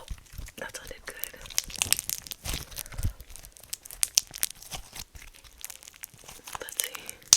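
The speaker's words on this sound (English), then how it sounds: "Can you hear it? The crunch." Crunchy slime being squeezed and played with at close range, giving quiet, irregular crackling and crinkling crunches in quick bursts, with a soft voice faintly present.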